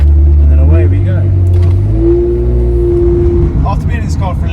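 A Ferrari 355 F1 GTS pulling away, its engine droning low and loud with a rising tone as it gathers speed, heard from close inside the car.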